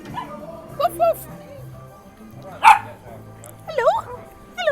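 A dog on a seaside pier gives a few short, moderately loud barks at spaced intervals against outdoor background noise, with a person talking nearby.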